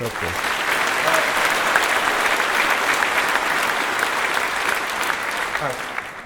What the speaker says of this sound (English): Give Jim Cameron a round of applause